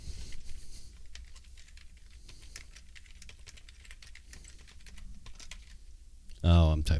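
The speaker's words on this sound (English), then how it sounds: "Oh, I'm typing on the wrong damn keyboard." Computer keyboard keys clatter in quick irregular bursts, close and fairly quiet, with a person talking over them and a louder sound cutting in at the very end.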